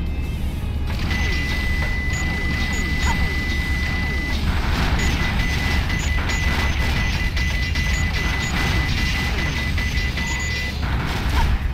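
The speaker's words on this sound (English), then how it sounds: "I can see how that beeping noise can get a little annoying" A steady electronic beep tone from the game Sonic Adventure 2 repeats through a dense mechanical clatter during an elevator ride, pausing briefly before resuming, with game-like whirring throughout.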